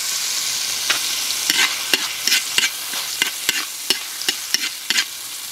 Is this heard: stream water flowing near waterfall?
no